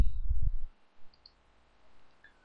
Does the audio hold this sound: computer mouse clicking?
yes